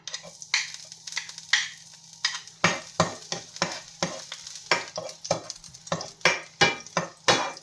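Garlic sautés in a pan with meat and cabbage, giving a soft sizzle under a brisk series of scraping stirs that are close and fairly quiet.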